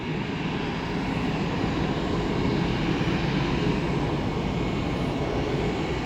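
An arriving airplane roars steadily at Orlando airport, a loud, continuous broadband engine rumble filling the air without letup.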